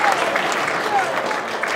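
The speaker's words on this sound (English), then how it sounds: "Let's give Amy a big round of applause" Audience applause at a university chemistry demonstration night, a short steady burst of clapping from a crowd with some voices mixed in.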